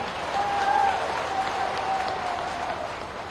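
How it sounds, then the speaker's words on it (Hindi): Crowd applause at an outdoor political rally, a steady wash of clapping sustained throughout at moderate distance, with no pauses. "तालियों की गड़गड़ाहट से"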